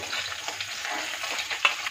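Rohu fish sizzles and crackles in hot oil with a steady hiss, broken by a few sharper spits and pops near the end.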